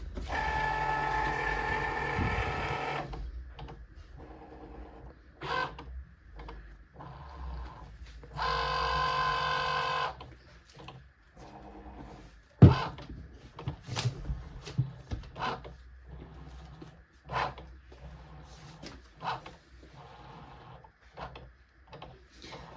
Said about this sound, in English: So the machine is busy detecting the sensory marks, the 4 marks